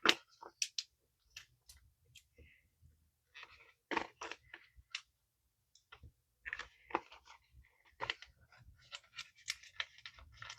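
Scissors snip through stickers in short, scattered bursts of crisp clicks and cuts, interspersed with paper rustling and quiet handling, close and fairly soft.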